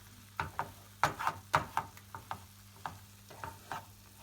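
Flour roasts in oil for Erzurum-style kavut halva, stirred and scraped in a pan with a string of close, rhythmic scuffing strokes over a faint sizzle, no voices.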